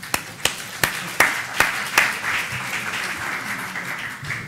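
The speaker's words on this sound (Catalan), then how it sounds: "Aquesta idea mereix un aplaudiment" A small online session audience claps after a presenter's idea in a Catalan talk on open innovation in public administration, a few sharp, spaced claps at first that thin into scattered, quieter clapping.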